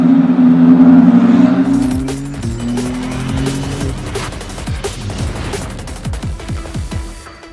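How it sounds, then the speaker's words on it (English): Ferrari Challenge race cars exiting the pit lane at Watkins Glen, first a loud close engine drone, then several cars passing one after another with rising and falling engine notes that fade into the distance. "So the cars coming out of the pit lane then, and ready for their 30-minute race here at Watkins Glen"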